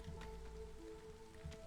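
Steady rain falls in the city-builder video game Against the Storm, a soft continuous patter with faint drip accents over a low tonal music drone.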